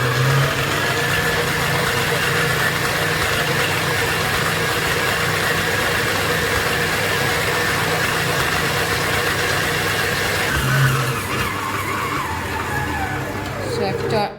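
A dough kneader machine runs at increased speed, working an oiled dough for chapati, puri and paratha, giving a loud, steady motor drone that holds unbroken for about fourteen seconds before cutting off.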